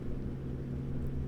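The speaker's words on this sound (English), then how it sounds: "I'm liking this engine sound." An International Eagle 9900i truck with a Cummins ISX15 engine in American Truck Simulator hums at a steady idle-to-cruise drone, a low, even rumble with no other sounds.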